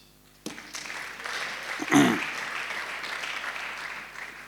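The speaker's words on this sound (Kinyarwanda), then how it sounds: "Reka duhe Imana amashyi." A church congregation bursts into applause after a brief quiet moment, steady clapping continuing to the end, with a loud cheer or shout rising near the middle.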